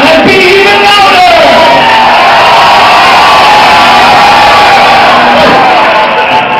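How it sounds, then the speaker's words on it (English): Audience at a concert in the Melkweg, Amsterdam, cheering and shouting loudly; a dense, sustained crowd roar fills the whole stretch without a break. "Your cheering up was even louder than the back part, so you have to be even more louder now."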